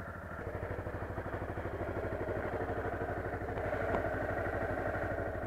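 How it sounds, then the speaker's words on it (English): Honda CBR 250R motorcycle engine idling and warming up in cold morning air, a steady close, even putter with a slight rise in revs midway, no talk. "I'm just warming up my bike because it's very cold out here"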